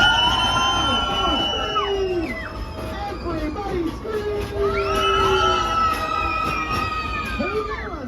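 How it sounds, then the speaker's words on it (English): A crowd of voices on a ride train screaming and shrieking together in long, overlapping high-pitched wails that swell, dip briefly, then rise again. "Car number 1, scream. Car number 2, scream. Car number 3, scream."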